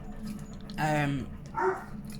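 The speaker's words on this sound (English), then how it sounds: "now the dog's barking" A dog gives two sharp barks close by over a low background rumble, the first louder and longer, the second shorter.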